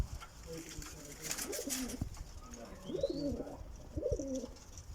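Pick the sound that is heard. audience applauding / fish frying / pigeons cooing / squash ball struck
pigeons cooing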